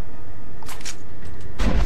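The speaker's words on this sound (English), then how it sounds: "since the explosions are triggered" Explosions in the video game F.E.A.R. Online, with a faint early burst followed by a louder, deep booming blast near the end.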